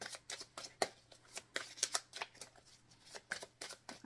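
A Hidden Truth Oracle deck being shuffled by hand, with quick papery riffles and soft slaps coming in short irregular bursts, close and fairly quiet, with no voices.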